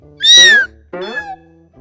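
A child imitates a cat, giving two meows, the first long and rising then falling, the second shorter, followed by a faint brief trailing sound.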